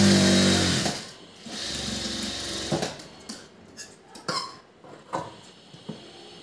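A sewing machine stitches a blouse in short, uneven bursts, with squeaks and mechanical clicks between runs, fairly close and without talk.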